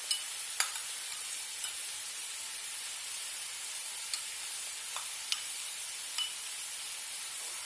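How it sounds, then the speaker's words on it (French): Chestnuts and mushrooms with garlic and parsley being stirred in a pan, a faint steady hiss broken by a few sharp clicks and scrapes of the utensil, no talk. "Et on mélange bien le tout."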